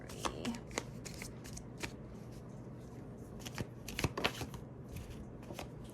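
Tarot cards are shuffled repeatedly nearby, a quiet run of papery riffles and soft slaps in irregular bursts.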